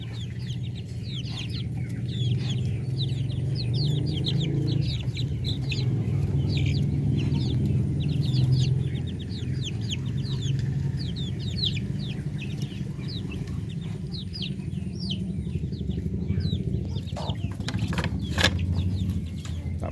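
Darag chickens and many small chicks clucking and peeping together in a coop, a continuous busy chorus of sharp chirps over a low murmur, steady throughout.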